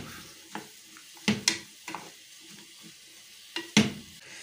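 Mini-pizza filling sizzles and crackles in a hot pan while a utensil stirs and scrapes in a few distinct strokes, close and moderately quiet.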